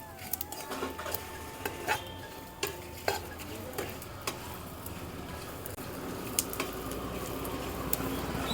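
Sesame and melon seeds dry-roasting in a pan over a low flame, stirred with soft repeated scraping and light clinks against the pan under a faint steady hiss.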